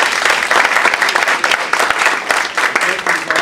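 Listeners at a panel on eLearning development tools break into a strong, continuous round of clapping, dense and near, holding at an even level throughout.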